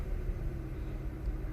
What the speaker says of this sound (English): Sometimes you need to leave it idling for a few seconds before the light comes on